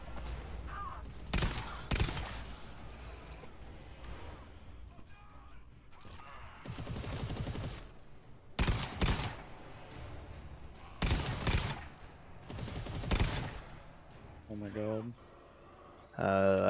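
Sentry gun in the video game GTFO fires in several sustained automatic bursts, loud and close, with short gaps between them and players talking over the shooting.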